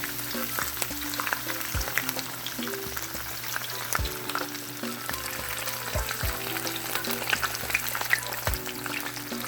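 Fish sizzling in hot oil for Jamaican escovitch fish, a loud, steady crackling fry with scattered pops and occasional clinks, and no talking.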